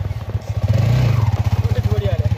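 A motorcycle engine runs with a steady, rapid low thumping pulse on a ride toward Kalinchowk, with people talking over it throughout.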